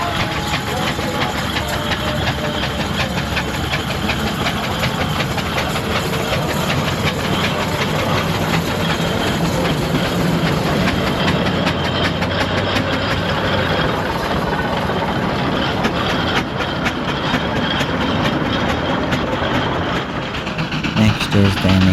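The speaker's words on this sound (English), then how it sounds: "there's even a Foden traction engine and a barrel road locomotive there, as they're just starting to emerge from the pits." Foden steam traction engine and a barrel road locomotive working as they emerge from the pits at a steam rally heavy haulage hill, a loud continuous mechanical rumble and chuff with dense crowd and outdoor noise throughout.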